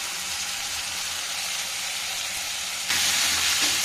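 Tomatoes hit hot oil in a pan for egg bhurji, a steady broadband sizzle that jumps louder and brighter near the end as they go in, close and continuous with no talk.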